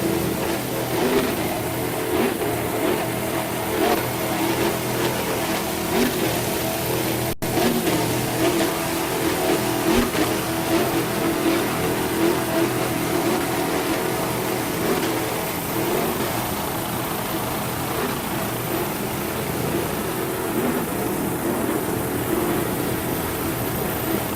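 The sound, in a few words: Merc Cruiser powered offshore racing powerboat engines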